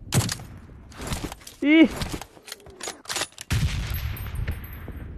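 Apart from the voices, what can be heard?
SCAR-L assault rifle gunfire in a video game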